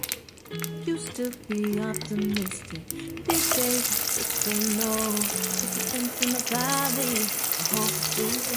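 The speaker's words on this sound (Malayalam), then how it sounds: "ഉള്ളിയെല്ലാം വഴണ്ടി വരുന്ന സമയം കൊണ്ട് നമുക്ക് അതിനുള്ള മസാല ഉണ്ടാക്കാം" Onions sautéing in oil in a home pan for a Ramadan iftar meal, with a steady, fairly loud sizzle that rises after the first few seconds and continues beneath background music.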